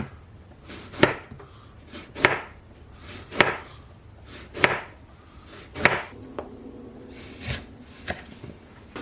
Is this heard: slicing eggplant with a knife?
yes